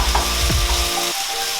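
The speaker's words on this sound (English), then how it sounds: "I'm going to put my onion in there. You can hear it sizzling now." Chopped onion frying in a pan on medium heat, a steady close sizzle with a brief stirring scrape from a wooden spoon, short and without talk.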